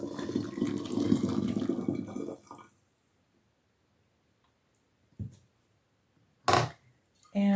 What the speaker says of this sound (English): We're going to add in 1 cup of hot water.